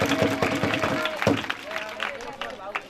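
A church congregation at St. John parish in Chirala applauds, a dense patter of many hands that is loudest at first and thins out, while a voice speaks over the clapping.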